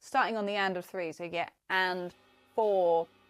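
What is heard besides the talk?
None of the usual background noises is heard.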